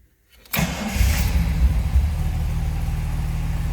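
A 1970 Jaguar XKE 2+2 engine cranks and catches after a short silence, then settles into a close, steady low idle with a few rough pulses in the first seconds.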